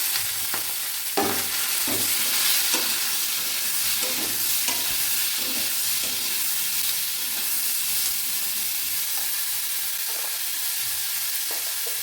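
Tomatoes fry in a pan over a tempering of cumin seeds, mustard seeds and dried red chilli, producing a constant sizzle with scraping stirs of a spatula every second or so.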